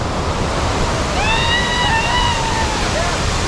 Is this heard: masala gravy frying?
no